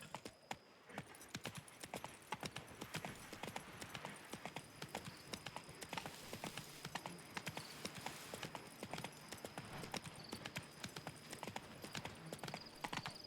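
A horse's hooves clip-clop in a quick, even gallop rhythm while it is ridden in a video game, with steady hoofbeats throughout and no talking over them.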